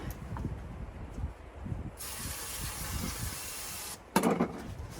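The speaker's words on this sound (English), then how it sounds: "I know that it wants some spray to start." Bursts of starting fluid spraying into an engine close by, a longer hiss then a short sharp one, over low rumbling background noise, on a Chevrolet Nova.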